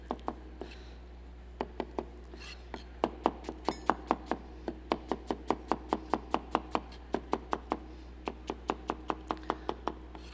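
Rapid knife strokes chopping vegetables such as onion and zucchini on a cutting board, a steady series of sharp close taps that speeds up in places, with no talking.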